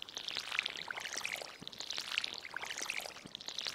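Watering parsnip crops in Stardew Valley brings a soft, faint trickling pour of water, with sparkly splashing repeated in short bursts across the whole stretch.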